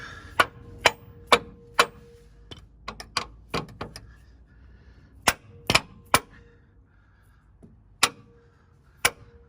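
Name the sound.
hammer tapping steering brace bracket onto Jeep frame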